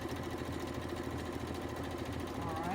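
A sewing machine runs steadily and close by at an even pace, its rapid mechanical stitching hum continuous and unbroken throughout.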